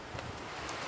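Wind blowing outdoors in a rocky spot beside a small campfire, a steady broadband rush with gusty rustling, close to the microphone and fairly loud.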